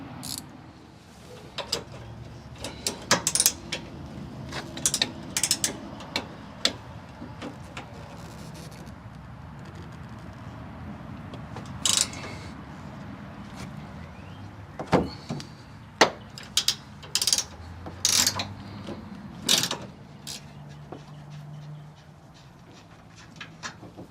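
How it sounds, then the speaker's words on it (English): Wrenches and sockets working loose the 18 mm rear shock bolts on a Ford F150 during a Bilstein 5100 shock install, giving sharp metallic clanks and ratchet clicks in irregular bursts over a faint background hum, no talking. "So grab your assortment of wrenches and sockets and we can take this off pretty easy."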